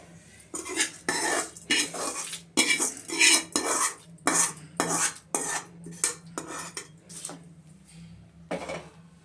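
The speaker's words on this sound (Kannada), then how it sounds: "ಇದನ್ನು ಸರಿ ಎಲ್ಲ ಮಿಕ್ಸ್ ಮಾಡ್ತೀನಿ" A spoon stirs tempering of chana dal, urad dal and chillies through curd rice in a vessel, giving close, rhythmic bursts of scraping and clinking against the metal, about a dozen strokes with brief gaps.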